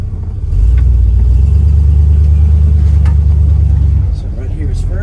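A pickup truck engine running as the truck drives, a loud low rumbling drone that swells after the first half second, holds steady, then eases near the end, close by.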